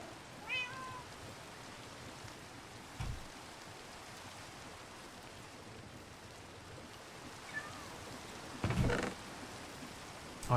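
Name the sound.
cat meowing in the video game Minecraft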